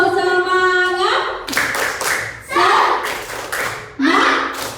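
Primary school classroom children perform a rhythmic clapping chant, bursts of group hand claps in a patterned rhythm alternating with children's voices chanting.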